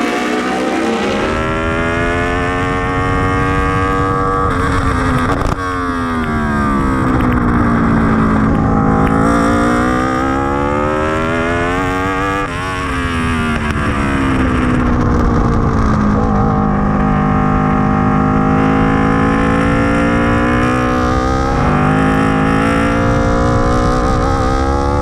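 A race car engine in the racing game Racing Is Life Auto 2019 drones loudly and continuously, pitch rising and falling with shifts and throttle changes across the whole stretch, close and dominant with no talking.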